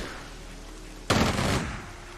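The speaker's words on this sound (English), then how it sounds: "More artillery firing." A sudden loud artillery blast from the WWII Pacific strategy game Strategic Mind: The Pacific bursts in mid-clip over low background rumble, then decays for about half a second.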